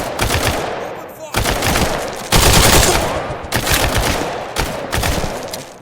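Loud, continuous automatic gunfire in a tactical VR shooter game, dense rattling bursts separated by brief gaps, close and dominant throughout, with talk faintly beneath.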